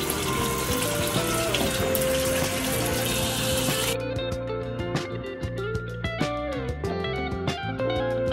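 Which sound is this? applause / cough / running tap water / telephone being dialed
running tap water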